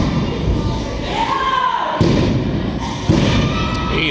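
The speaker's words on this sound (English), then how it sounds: "Another big suplex." Heavy thuds as a wrestler is slammed onto the ring mat by a suplex during an MSWA wrestling match, two loud impacts about a second apart under ongoing commentary and crowd noise.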